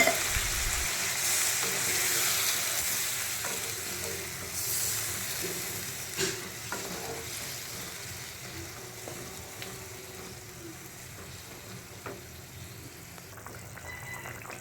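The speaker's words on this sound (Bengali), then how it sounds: "আলু পটল ভালো করে কষানো হয়ে গেলে এবার দিয়ে দেবো পরিমাণ মতো জল" Water poured into a pan of potatoes and pointed gourd frying in a kadai, a steady loud sizzle and hiss that slowly settles, with occasional clinks and scrapes and no talking.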